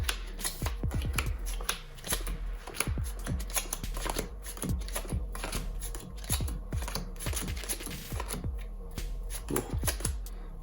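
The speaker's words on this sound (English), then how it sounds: "let's do some dealing" Madison Chateau playing cards being dealt in a practice circuit of fair, second and bottom deals: a quick run of crisp snapping flicks and card slaps, close and loud, in an uneven rhythm with no talk.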